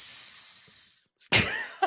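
A voice imitates a sizzle with a long, close, airy hiss that fades out, followed after a brief gap by a loud breathy burst and a short final puff.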